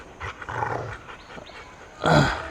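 A Rottweiler and a German Shepherd in a street fight growl and snarl in close, rough bursts, with a louder burst of growling near the end.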